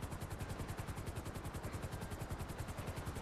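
A helicopter lands in the video game GTA 5 Online, its rotor making a steady, rapid thudding chop over a constant engine whine, close and continuous, with no voices.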